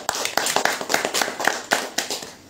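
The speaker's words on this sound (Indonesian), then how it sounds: "Tepuk tangan dulu" Audience applause at an Indonesian religious study gathering, a fairly dense burst of hand claps with distinct sharp hits standing out, steady for a couple of seconds and then thinning out toward the end.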